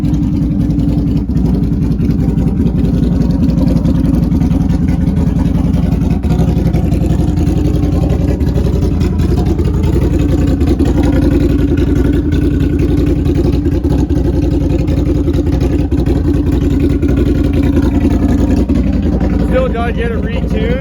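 A Can-Am Outlander XMR ATV fitted with a new exhaust pipe idles steadily nearby, giving a constant low, rumbling engine drone that barely changes for about twenty seconds.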